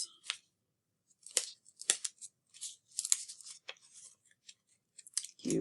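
Crisp, close snips of scissors cutting a notch into a folded paper snowflake, coming in irregular bursts of quick cuts with short pauses between them.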